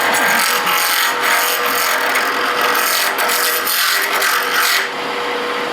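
An acrylic pen blank being turned on a wood lathe at about 2800 rpm, a loud continuous rasping whir from the tool cutting the spinning blank that drops away near the end.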